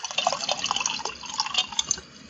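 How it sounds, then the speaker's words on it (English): Water runs and trickles steadily like a small river, with bright dripping and splashing close by and no talking. "It sounded like a river all of a sudden."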